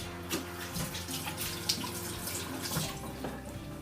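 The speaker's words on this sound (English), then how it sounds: "we go ahead and wash my hands real quick" Hands being washed under a running kitchen tap while making sushi, a steady close splashing stream of water with small irregular splatters throughout.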